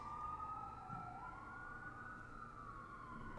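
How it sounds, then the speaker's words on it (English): A faint emergency siren wails in the distance, its pitch slowly sweeping up and down over a low traffic rumble. "sorry about the sirens."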